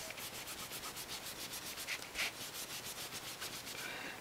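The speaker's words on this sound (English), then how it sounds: "I take the excess from my baby wipe and I rub it on the back" A baby wipe loaded with excess ink is rubbed back and forth across the back of a paper tag, giving steady, rhythmic soft scrubbing strokes close by at low level.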